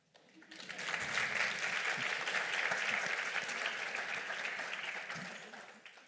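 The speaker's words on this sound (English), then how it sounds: "We may applaud." Applause from an audience at a conference panel session on African infrastructure swells quickly into a dense, sustained wash of clapping, holds steady for several seconds, then thins out, with faint voices underneath.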